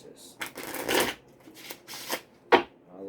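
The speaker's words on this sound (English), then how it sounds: "I don't know why I'm still shuffling." Tarot cards are shuffled by hand in several crisp riffling bursts and a sharp final snap, close up, with a voice talking underneath.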